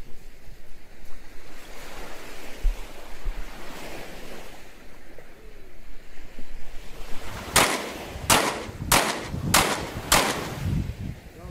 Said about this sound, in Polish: dacie trochę szumu morza w tle chociaż, co?